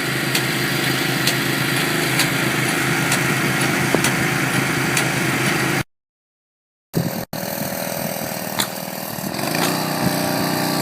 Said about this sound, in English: This is a pumping station for the code applied adhesive.